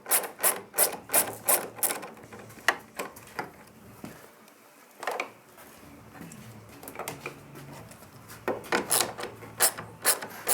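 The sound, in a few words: ratchet with 8mm socket on motorcycle mirror bolt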